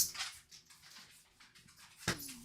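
Indoors, a dog gives soft, faint whimpers and snuffles, ending in a brief rising whine near the close.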